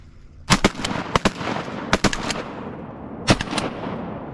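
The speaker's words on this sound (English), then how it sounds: "Shoot the ones on the right so I can shoot." Shotgun blasts during a waterfowl hunt, a ragged volley of about a dozen sharp, loud reports fired by several hunters in quick clusters, with short pauses between bursts.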